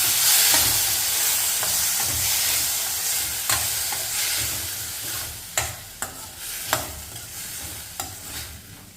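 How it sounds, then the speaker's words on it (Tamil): Chopped tomatoes sizzle steadily in a hot pan while a spoon stirs them, scraping and tapping the pan a few times. "இது நல்லா சாஃப்ட் ஆகிற வரைக்கும் வதக்கிக்கணும்."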